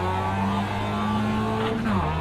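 Race car engine in a racing video game, a loud sustained engine drone holding steady pitch then dropping briefly as a gear shifts near the end, no talk.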